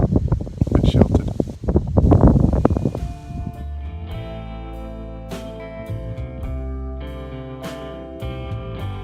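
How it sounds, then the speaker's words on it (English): Chilly wind gusts buffet the microphone outdoors in the opening seconds, loud rumbling bursts that then give way to a calmer, steadier background. "this wind is really chilly"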